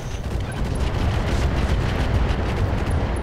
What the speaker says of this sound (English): I'm going to drop the barrage in here